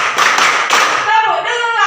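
Group clapping during an ice-breaking game at an in-house training session, a single-clap count mixed with several broadband hand strikes, with voices talking and calling out alongside.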